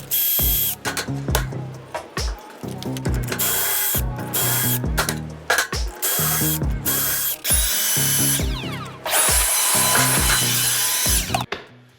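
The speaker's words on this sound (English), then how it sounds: "So I'm gonna drill all of these right now." A power drill whirs in repeated bursts, each spinning up and biting into wood while drilling pocket holes, with brief pauses between holes and some clattering of tools.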